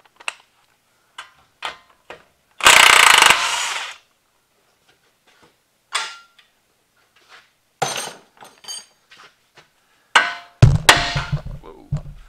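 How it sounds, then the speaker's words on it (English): Metal clanks and sharp impact strikes from removing the outer tie rod on a Chevy Silverado during a leveling kit install, with a loud burst of rattling mechanical noise near the start and scattered knocks and taps afterward, close and without talk. "I'm going to pull that tie rod off."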